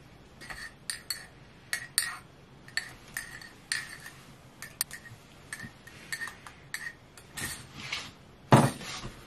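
A teaspoon clinks against a mug while Tetley's tea is being made, with a series of light, sharp metallic taps spread irregularly through the clip and a louder clatter near the end, close by and without talk.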